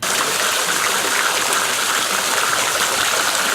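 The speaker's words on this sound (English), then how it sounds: "the hose somewhere in that neck of the woods filling the pool at an abysmal rate" A garden hose runs steadily into a backyard swimming pool being opened for the season, producing a continuous, close-up hiss of splashing and trickling water with no breaks.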